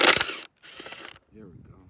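A hand ratchet turns a T30 Torx fastener on a 2021 Nissan Rogue roof rack, giving a couple of quick, close clicking strokes with short gaps between them.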